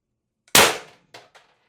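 A Beeman BP50 air pistol fires a 12.7mm 1.2g nylon precision bearing, giving a single sharp, loud crack that decays quickly. Two smaller clicks or impacts follow a moment later.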